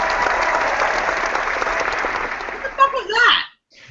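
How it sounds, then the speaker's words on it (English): A played applause sound effect: a burst of clapping and cheering that cuts off abruptly after a few seconds. "That was applause that ADD Jeff figured out how to play."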